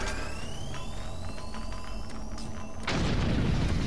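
A grenade detonates in DOOM 3, a deep loud boom cutting in near the end after a rising electronic whine and tense game ambience.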